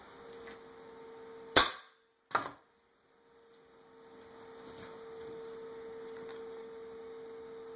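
A single-shot pneumatic air pistol pumped ten times fires one sharp, loud crack, followed a moment later by a second, smaller snap, all over a steady electrical hum.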